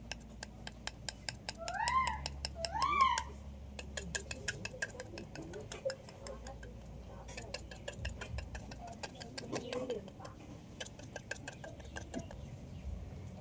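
A fork pricks holes in thinly rolled papdi dough, making rapid, light, rhythmic clicks in quick bursts, while a cat meows nearby a couple of times.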